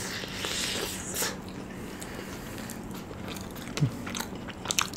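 Someone bites into a crunchy, cheese-filled Korean corn dog: sharp, close crunches at intervals, the loudest near the end, over soft chewing and a quiet room background, with no speech.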